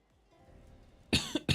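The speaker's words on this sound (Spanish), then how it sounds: "Tengo una tos últimamente" A single person coughs sharply two or three times at close range after a brief quiet lead-in.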